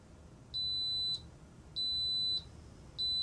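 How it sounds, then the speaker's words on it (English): An Instant Pot Duo Plus 8-quart 9-in-1 electric pressure cooker signals the end of cooking with loud, steady electronic beeps, three long tones evenly spaced over a quiet background. "that beeped several times to let you know the cooking was done"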